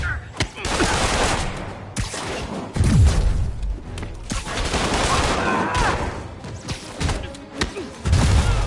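Gunfire in a Spider-Man video game comes as loud, dense volleys of shots and thuds, near and continuous through much of the scene, with game voices mixed in.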